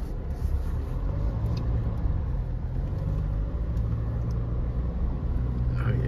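Changan Hunter pickup truck with a manual gearbox driving along a road, its engine giving a steady, loud low rumble with continuous road noise throughout and no distinct revs.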